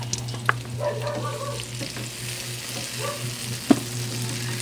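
Sliced tomatoes sizzle with onions in a pan for a chicken asado sauce, a steady low frying hiss with a few sharp clicks of a utensil against the pan, no talk.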